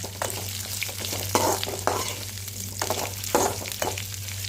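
Drumstick leaves chutney mixture sautéing in a pan, a steady close sizzle with a constant low hum and several louder scraping stirs spaced through it, no voices.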